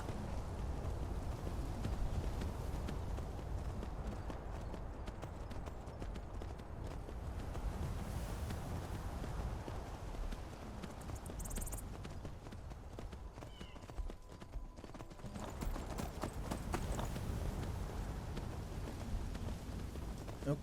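Horse hooves clip-clop steadily on a road in the video game Skyrim, a continuous even trot of moderate loudness under ambient game sound with no talking.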